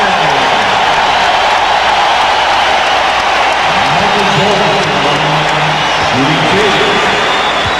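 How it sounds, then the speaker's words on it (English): A basketball arena crowd jeers and boos a player during a 1993 NBA playoff game between the Bulls and Knicks, a dense, loud, sustained roar with a commentator talking over it. "John Paxson hearing it from the crowd."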